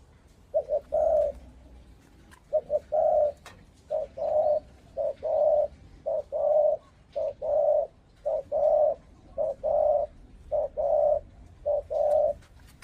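A spotted dove coos repeatedly in soft, rhythmic phrases, steady and fairly close, over faint outdoor background with no talking.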